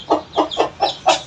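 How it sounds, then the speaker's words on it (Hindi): Hen clucking in a backyard bird enclosure with newly hatched chicks, five even, moderately loud clucks in a steady rhythm, close by with no talk. "देखें वो एक मुर्गी जो इधर बैठी हुई है"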